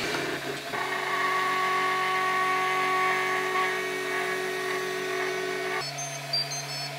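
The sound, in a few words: MakerBot Replicator 2 3D printer extruding a print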